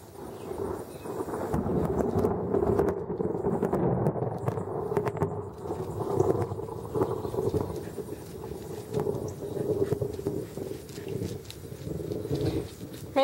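Deep, continuous rumbling like a thunderstorm, steady and heavy throughout, with no voices.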